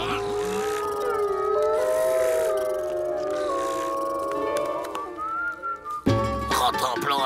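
Cartoon dogs in an animated Les Dalton episode howl in long, wavering, drawn-out tones that overlap, loud and sustained, ending in a brief burst of other noise near the end.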